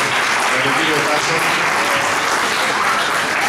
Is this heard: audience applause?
yes